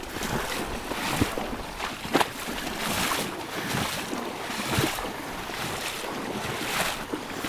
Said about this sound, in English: We're gonna walk the canoe over and we're gonna ferry across. So we're kind of walking against the current right now.